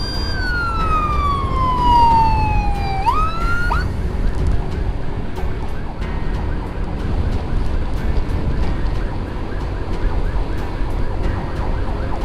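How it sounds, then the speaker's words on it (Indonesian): An ambulance siren wails loudly, sweeping downward in pitch before breaking off abruptly, followed by steady road and engine noise of traffic close by. "Makanya pakai sirine yang urgen."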